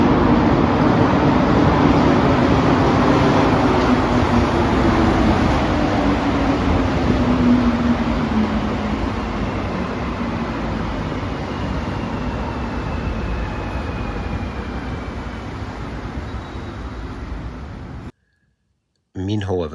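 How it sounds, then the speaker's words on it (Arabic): Metro train ride heard from inside the carriage: a loud, steady low rumble with faint clicks of the running gear and a rising whine as the train picks up speed, continuous for most of the stretch before a short break. "ودلوقتي هناخد المترو."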